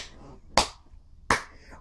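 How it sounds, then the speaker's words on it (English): A man clapping gleefully: two sharp, distinct hand claps spaced well apart, fairly close and crisp, each with a quick short decay, over a quiet background. "The man who started the conversation claps gleefully."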